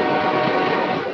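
A passing train at a rail yard, a loud continuous broadband roar with a sustained whistle blast blended into the rumble, steady and close throughout.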